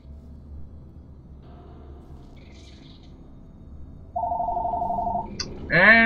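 A phone rings during a Portal 2 play session, heard as a steady electronic tone that starts suddenly and holds for over a second, followed by a brighter, louder warbling ring. Low game rumble runs underneath.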